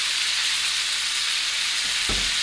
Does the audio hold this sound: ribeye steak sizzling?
yes